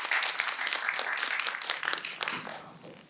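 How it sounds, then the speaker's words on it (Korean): An audience applauds in a forum hall to welcome a dancer from Chuncheon to the stage, a dense, steady patter of many hands that fades slightly toward the end. "여러분 큰 박수로 맞아주십시오."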